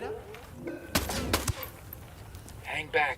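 Gunfire in the video game Ghost Recon Wildlands, two sharp, loud shots in quick succession over a low game ambience, with brief voice fragments around them.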